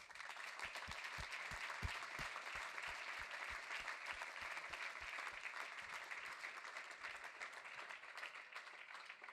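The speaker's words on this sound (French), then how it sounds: "je pense elles méritent un bon round d'applaudissements." Sustained audience applause at a corporate startup awards event in France, dense steady clapping from a large crowd filling the whole stretch with even loudness.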